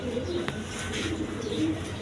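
Cooing of a male Danish pigeon with a thick beak and three red bands, given as short soft coos over steady background noise.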